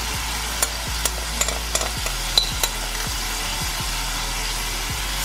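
Marinated chicken pieces sizzle in hot oil in a pan, a continuous frying hiss broken by several sharp clinks and scrapes of a utensil against the pan, close and fairly quiet.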